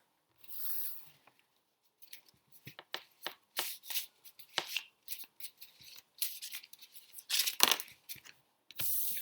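Tarot cards being shuffled by hand in a quiet room, giving a rapid series of crisp riffling flicks and papery slaps in irregular bursts, close and fairly soft, with no talking.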